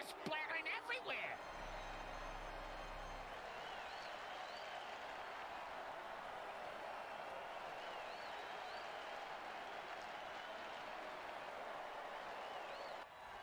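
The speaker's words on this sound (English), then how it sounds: "Crowd's loving it." Steady roar of a crowd cheering at an American football game, broad and continuous throughout, with a brief burst of nearby noise at the start before the cheering settles into a sustained wash of sound.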